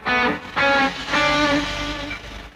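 Three distorted electric guitar power chords struck in turn on the lower strings, each ringing out briefly, loud and close with no voices over them.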